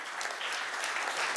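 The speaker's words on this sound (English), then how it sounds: "A huge round of applause" Audience at a corporate CSR conclave applauds a named foundation head in a steady, dense wash of clapping that holds evenly for the whole stretch, with no voices over it.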